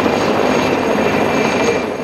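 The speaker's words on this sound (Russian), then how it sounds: "показательный пролет пилотажной группы аэроклуба Самарского филиала ЦСКА на вертолетах Ми-2" Mi-2 helicopters of an aeroclub aerobatic team pass overhead during an air show display, and their loud, steady rotor and engine roar fills the clip without a break.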